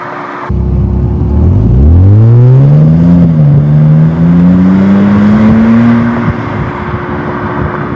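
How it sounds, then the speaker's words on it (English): A BMW E92 fitted with a Valvetronic Designs valved muffler revs hard through one loud, rising pull, the engine note climbing steadily for several seconds before easing off to idle, with no talking. "I'll give you a closed valve pull and an open valve pull."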